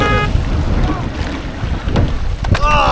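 An eight-person rowing shell paddles at a collegiate race on San Diego water, with splashing oar strokes and water rushing under gusty wind buffeting, faint voices calling in the background.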